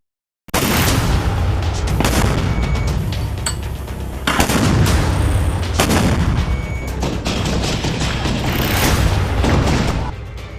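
Bombing and artillery fire in the Gaza war: loud, continuous heavy booms and rumbling blasts, with several sharp impacts standing out against a dense roar of gunfire.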